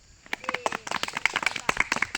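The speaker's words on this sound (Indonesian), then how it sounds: "Tepuk tangan dulu." Classroom applause from a group of students, a dense burst of hand clapping with some mixed voices, fairly close and lively throughout.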